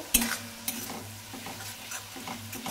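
Mixed vegetables with Kashmiri chili powder being sautéed in a pan for a Bengali mustard chhanchra, a quiet low sizzle with a few sharp spoon knocks and soft rhythmic stirring scrapes, close by.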